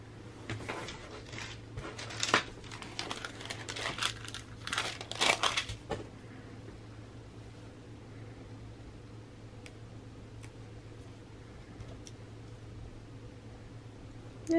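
Wax paper crinkles and rustles up close in a quick burst of handling during a planner layout session, with louder crackles near the start that stop after a few seconds, leaving a quiet room hum.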